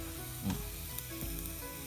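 Unmarinated pork sizzles on a Thai mu kratha grill pan at a campsite, a steady close frying crackle with a few louder spits and pops and no talking.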